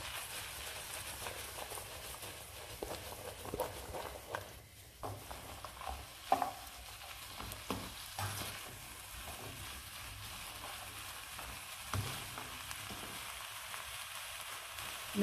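Food sizzles quietly in a pan over a raised flame, with occasional scrapes and clacks as it is tossed and stirred, faint and continuous with no talk.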